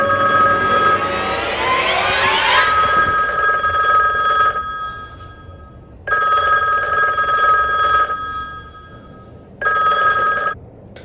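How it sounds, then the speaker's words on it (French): An old telephone rings inside the house in the horror game Granny: loud bursts of a metallic bell, a long first ring followed by two more separated by silent gaps. "C'est pas de ma faute si son vieux téléphone se met à sonner comme ça."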